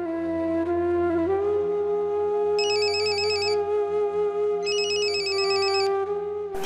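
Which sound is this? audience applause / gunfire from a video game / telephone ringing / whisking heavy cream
telephone ringing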